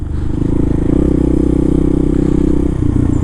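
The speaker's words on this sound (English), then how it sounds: "I just love riding a dual sport around in the city." Dual sport motorcycle ridden through New York City streets, a loud steady engine drone with a close, throbbing low rumble throughout.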